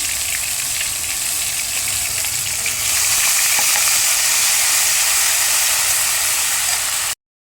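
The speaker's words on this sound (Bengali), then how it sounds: "এই যে আদা রসুন বাটা দিয়ে দিলাম" Loud, continuous sizzling and frying hiss of ginger garlic paste in hot oil up close, growing a little stronger midway, then cutting off abruptly.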